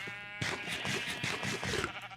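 A red sheep in Minecraft bleats in a steady, wavering, drawn-out cry that runs for about two seconds, clear and alone over quiet game background.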